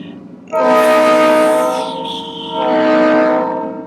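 A train passes near a house, its horn sounding loud and sustained in two long blasts over the rumble of the cars, with no talking.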